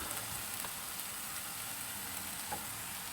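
Frozen hash browns fry in a pan on a small camper stove, giving a steady, even sizzle and crackle that runs throughout without talk.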